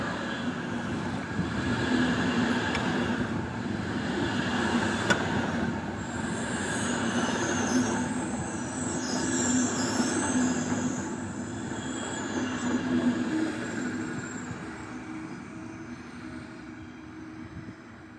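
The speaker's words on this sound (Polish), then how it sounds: "Wjeżdża pociąg Intercity Chrobry relacji Szczecin Główny," An Intercity Chrobry train from Szczecin Główny, hauled by locomotive EU160 022, rolls into Warszawa Wschodnia station, a loud, sustained rumble of wheels on rail with high squealing brakes, gradually easing as it slows.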